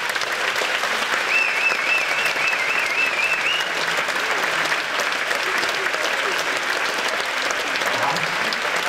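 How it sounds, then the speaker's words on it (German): Sustained audience applause during a short film festival's making-of, a dense, even wash of clapping filling the whole stretch, with a faint whistle-like tone and some voices blending in early on. "Können wir mal einen riesen Applaus von Ihnen haben?"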